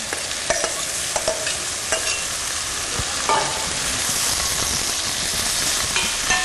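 Tomatoes stirred into a sizzling frying pan, with a continuous loud hiss of frying broken by several sharp scraping strokes of the utensil.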